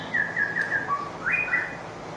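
A female lovebird gives a couple of bright, whistled chirps, a sustained high note and then a second rising call, heard close and clear over faint background hiss.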